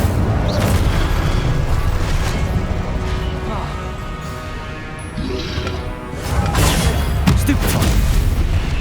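Incendio fire spell cast in the Hogwarts Legacy video game, a dense booming burst of flame amid continuous loud combat noise, with a second heavy swell near the end and a voice speaking over it.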